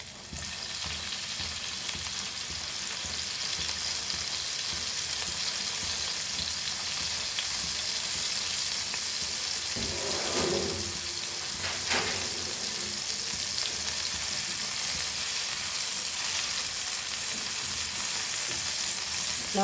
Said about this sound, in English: And now we will fry our garlic